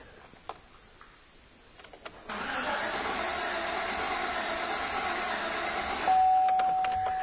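A car with a crank-no-start fault cranks steadily without catching. The starter churns in a continuous whirring drone that begins abruptly after a few faint clicks and runs on unbroken, nearby and fairly loud.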